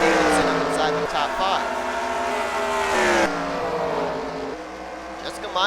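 Race trucks roar around the Bristol dirt track in a racing video game, engines droning and shifting pitch continuously as several vehicles battle in a pack, loud and steady with commentary running over them.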